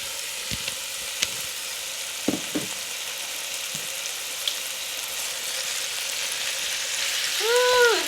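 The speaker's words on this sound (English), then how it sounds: "We're gonna go ahead and start cooking our ribeye." A ribeye steak sizzles steadily in hot olive oil in a pan, a loud continuous fry with a few clinks and taps early on and a brief tonal ring near the end, with no speech.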